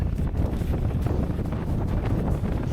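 Strong wind buffets the microphone on Vikafjara black sand beach on Iceland's south coast, a loud continuous low roar with gusty swells throughout and no talking.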